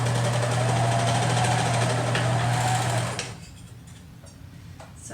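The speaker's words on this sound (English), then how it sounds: "All I have to do is serge together this little short edge." A serger runs fast and steady, stitching a short edge of a knit neck band for a Burda 6254 star shirt. The loud, even buzz lasts about three seconds, then stops, leaving a quiet room.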